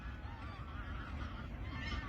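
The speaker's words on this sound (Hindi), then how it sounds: "और इसी में हमको और बार हेडेड गीस कुछ बैठे भी हैं, वो भी नज़र आ रहे हैं।" Bar-headed geese honk softly at a wetland, giving faint, nasal calls over steady low background noise, with no voices.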